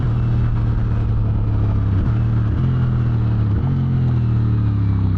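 A 2025 CFMOTO cruiser motorcycle runs at full throttle, its engine note climbing steadily toward 8,000 RPM, briefly dipping at gear changes, then rising again, loud and close throughout.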